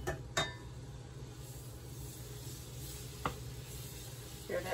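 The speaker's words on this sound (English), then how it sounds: "Nice hot pan, in goes the noodles." Keto noodles sizzle steadily in a hot pan, a soft continuous frying hiss with a few light clinks of utensils against the pan, fairly quiet and close, with no speech.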